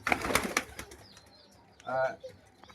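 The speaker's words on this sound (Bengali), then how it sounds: "সব কবুতর সুস্থ রানিং ডিম বাচ্চা করা কবুতর" Pigeons at a farm coo and stir, with soft calls and a brief burst of wing flapping or fluttering, fairly faint and close, while a person's voice is also present.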